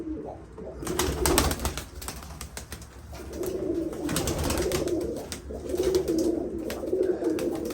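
Pigeon cooing inside its coop, a steady low throaty coo repeating close by over a background of rustling and shuffling.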